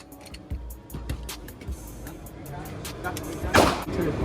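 Glock 19 and Glock 48 pistol shots at a shooting range, a few sharp loud reports spaced about half a second apart, with a louder, nearer crack toward the end amid range noise and voices.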